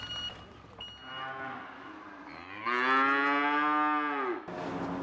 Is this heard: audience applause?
no